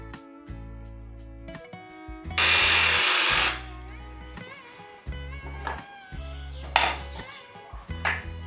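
A power drill bores a hole in a wooden coffee filter stand, with short stop-start bursts of motor whine, a louder full-speed run near the start and scraping and handling noises between the bursts.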